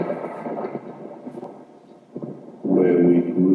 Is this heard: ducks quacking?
no